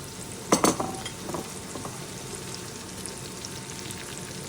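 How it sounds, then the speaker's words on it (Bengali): A tomato being stirred and fried in a pan for spicy egg pasta, with a brief burst of scraping and clatter near the start, then a steady quiet sizzle running underneath with no voices. "টমেটোটা দিয়ে ভালোভাবে নাড়াচাড়া করে"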